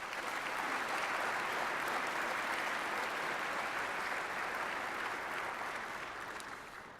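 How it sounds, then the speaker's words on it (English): A sustained round of applause from a downtown audience for elected officials at a mayor's State of Downtown event, dense steady clapping that fades slightly toward the end. "Will you please give all of our elected officials a round of applause?"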